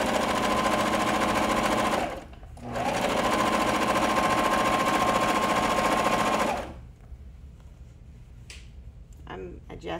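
A sewing machine stitching fabric with a decorative stitch, two loud, steady whirring runs close by separated by a short pause, then a quieter stretch with light handling sounds and a voice.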